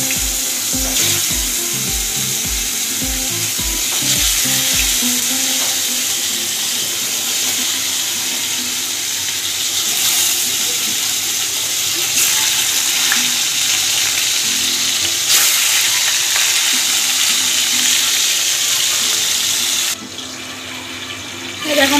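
Fish slid into hot oil in a wok gives a loud, continuous close-up sizzle and hiss that holds steady for over twenty seconds, with a faint low rhythmic pulse early on and no talking.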